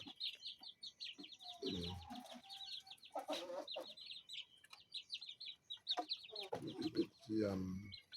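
Siam Bangkok chickens, a native Aceh breed, cluck and chirp in rapid, repeated bursts close by, with a few louder squawks and brief human voices in between.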